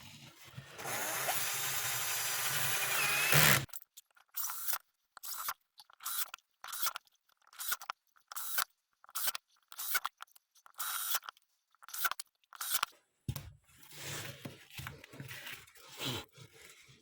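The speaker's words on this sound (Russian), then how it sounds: "Сейчас мы загоняем саморезы и посмотрим, что получится" A power screwdriver drives self-tapping screws through an old flap disc for an angle grinder in a quick series of short, loud bursts with brief pauses between them, after a steady mechanical whir at the start.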